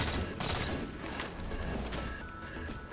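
Dense Halo 4 gunfire with an explosion, a sustained loud barrage of shots and blasts from an online match, continuous and close throughout with no clear pauses.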